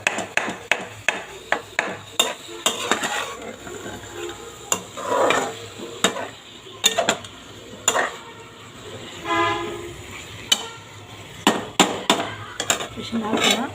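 Potatoes and ground spice are stirred in a frying pan, with a spoon scraping and knocking against the metal in irregular clicks and taps, some close and sharp, under a faint background of voices.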